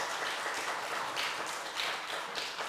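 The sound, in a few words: congregation applauding to welcome someone in church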